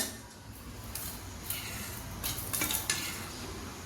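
Bread chaat ingredients with chutneys being mixed in a bowl, a soft continuous scraping and clinking of a spoon against the dish, steady and close with a few brighter knocks.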